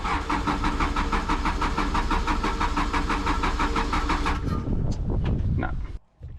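A diesel engine cranks with a loud, rapid rhythmic churning for several seconds without catching, then stops, followed by clunks and quiet.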